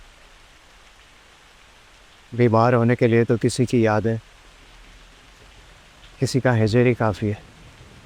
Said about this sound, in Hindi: भीग गए हो बिल्कुल बारिश में